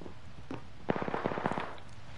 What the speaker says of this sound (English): so that's a smoke bomb.